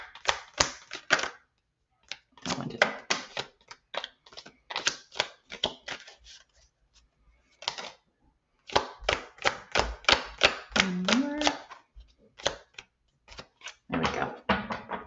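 Tarot cards being shuffled by hand, a run of crisp riffling bursts and slaps close by, with brief pauses between handfuls and no talk.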